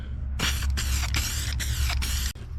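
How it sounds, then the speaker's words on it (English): An aerosol spray paint can hisses in four short, even bursts with brief pauses between them, loud and close, during repair work on a 1952 Willys pickup. "It sprays very well."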